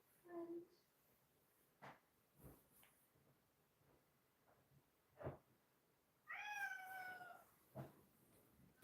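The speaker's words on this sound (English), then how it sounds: "Suddenly, the cats are active." A cat meows indoors, with a clear drawn-out meow near the end and a brief earlier mew. Quiet clicks and faint background sounds fill the gaps between calls.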